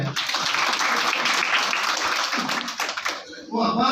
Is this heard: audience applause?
yes